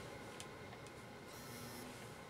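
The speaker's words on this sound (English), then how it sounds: "Final sew off on this acrylic fiber material, and we'll see how that lock stitch looks now." A 1956 Singer Featherweight 221-1 sewing machine stitches acrylic fiber fabric with a faint, steady mechanical whir and a few light ticks, heard quietly and alone.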